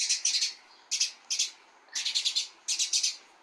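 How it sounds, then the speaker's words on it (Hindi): Small birds chirp in a garden in quick bursts of three or four bright tweets, separated by short gaps, close and clear with no talk over them. "ये ना पक्षियों की साउंड आ रही है पीछे से"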